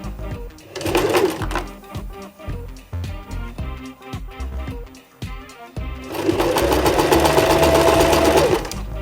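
A sewing machine stitches a small back stitch on fabric for a Buff scarf. Short stop-start bursts of rapid needle clatter build into a sustained run, close and fairly loud.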